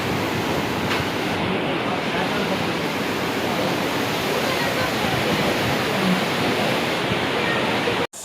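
Gundyadka waterfall near Mangalore in full monsoon flow gives a dense, constant roar of falling water that stays loud and unbroken, with no pauses, until it cuts off abruptly at the end.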